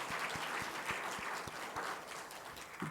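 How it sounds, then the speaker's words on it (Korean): A congregation claps in welcome at a Korean Sunday church service. The clapping is soft, brief and fairly distant, with scattered individual claps and no speech over it. "박수로 환영합니다"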